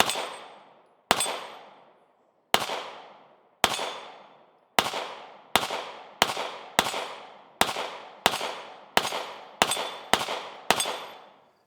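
An FN Reflex pistol fired outdoors, a dozen sharp, loud shots with ringing decay, slow and spaced at first, then coming faster in a steady rhythm, with no talking.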